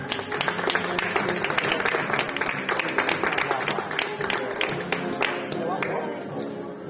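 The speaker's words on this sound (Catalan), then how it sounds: "Un aplaudiment." An audience claps continuously at a Falles ceremony honoring the Falleres Majors 2021, steady even applause that begins to taper near the end.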